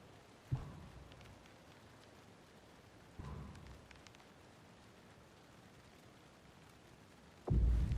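Steady rain falls in the video game Alan Wake 2, a soft, continuous hiss broken by a few dull low thuds and rumbles, with a louder heavy impact at the end.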